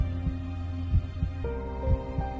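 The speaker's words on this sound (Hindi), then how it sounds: "तुम्हारी धड़कन बहुत तेज है" A fast heartbeat sound effect throbs in low, soft pulses at a quick, slightly uneven pace over a steady background hum.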